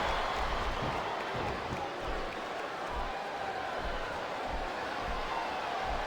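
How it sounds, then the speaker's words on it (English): Arena crowd in the WWE SVR 2007 wrestling video game, during an Iron Man match between Batista and The Rock, keeps up a steady roar of cheering and clapping, loud and continuous, with no distinct chant audible. "I'm not sure I agree with what the crowd is chanting, JR, but I guess it's their right."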